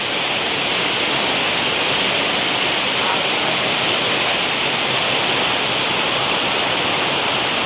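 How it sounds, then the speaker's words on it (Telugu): Sirimane waterfall near Sringeri, Karnataka, roars steadily with great force, a loud, dense rush of falling water that never lets up. "ఇదే అండి మనకు శ్రీమాన్ వాటర్ ఫాల్స్ చాలా ఫోర్స్గా వస్తుంది"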